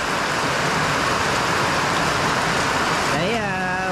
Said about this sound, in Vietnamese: Trời mưa lớn quá